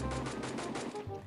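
Rapid automatic gunfire rattles in Garena Free Fire, a quick string of evenly spaced shots at moderate volume over a short burst, with no talk.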